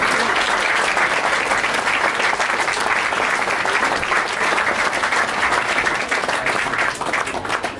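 A large audience at an evening speech bursts into loud, sustained applause, a dense unbroken wash of clapping that carries on for several seconds before beginning to thin.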